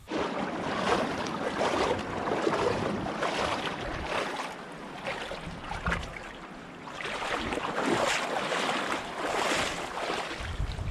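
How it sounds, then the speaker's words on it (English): Shoes are rinsed in water at Hila'an Lost Pond, a continuous splashing and swishing close by with gusts of outdoor wind, no voices heard. "I'm just washing off my shoes."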